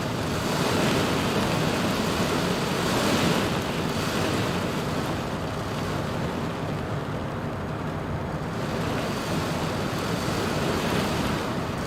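Dense, roaring rain mixed with gusting wind during a flight into Cyclone Freddy in Microsoft Flight Simulator, a loud, steady wash of noise that swells and eases slightly without pause.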